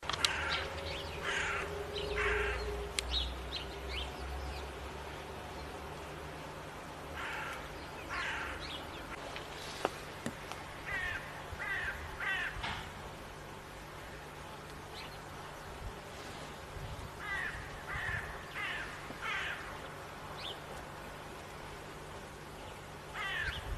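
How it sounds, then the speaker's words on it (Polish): A crow caws repeatedly in short bursts against an outdoor backdrop of other birds and insects, its calls moderately loud and spaced irregularly. "I już do swojego śpiewu szykuje się Wrona."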